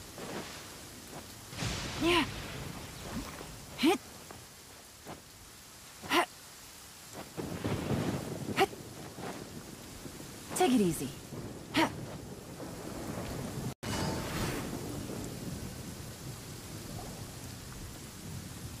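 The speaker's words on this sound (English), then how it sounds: "It's raining again?" Rain and thunder in a video game: a constant patter of rain runs throughout while several thunder cracks and rumbles break in, with brief spoken lines and a gasp heard between them.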